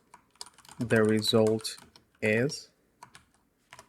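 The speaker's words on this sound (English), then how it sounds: "And I want to type the result." Typing on a computer keyboard: scattered, fairly close key clicks, with a few quick taps near the end, under and between a person speaking.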